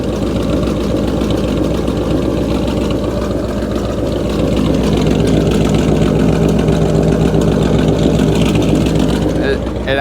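A truck's engine runs throaty and steady after losing all its oil, a loud, continuous low rumble that holds for the full ten seconds, close by, with someone talking over it.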